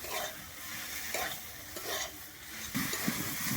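Red lentil (masoor) dal mixed with banana flower being stirred in a pan: close, repeated scraping stir strokes over a soft continuous sizzle, with no talk.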